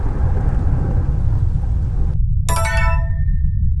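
Stormy weather rolls through in the video game SAGA PRESTRO: a dense, steady hiss of rain and low rumble plays loudly, then cuts out abruptly and is followed by a bright chiming tone that rings out and fades.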